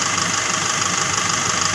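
A Nissan NV350 van engine runs at a steady idle, a continuous close mechanical drone with even vibration and no pauses.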